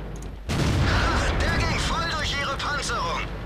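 In the World of Tanks video game, a Hummel self-propelled artillery shell strikes with a sudden loud boom. A broad rumble trails under someone talking.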